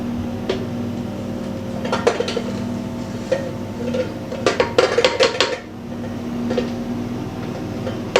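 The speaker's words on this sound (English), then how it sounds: "I'm going to scrape down my bowl." A spatula scraping down a mixing bowl of shortbread cookie dough, heard as close scrapes and clinks in short bursts, loudest around the middle, over a steady background hum, with no talking.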